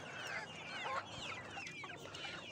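Thirsty backyard laying hens cluck and chatter continuously, several birds overlapping at moderate distance, with no talk over them.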